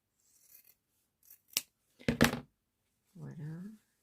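Scissors snipping through a paper napkin for a decorated cardboard box craft, a few separate crisp cuts of varying loudness in a quiet room, followed by a brief murmured voice.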